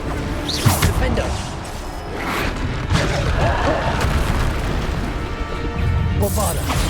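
Bombarda spell explosions in the video game Hogwarts Legacy, dense booming blasts and crashes layered with continuous game noise and a voice calling spell names throughout.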